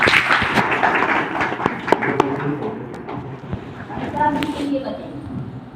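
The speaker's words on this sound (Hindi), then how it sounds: "एक बार अभी भैया के लिए ताली बजा दीजिए" Audience clapping for a speaker at an RCM plan meeting, a steady mixed patter of hands under a voice talking over it throughout.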